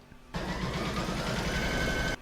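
An embroidery machine stitching fabric down on an in-the-hoop baby bib gives a steady, fast rhythmic mechanical whir that starts abruptly, runs for about two seconds and stops, close and alone.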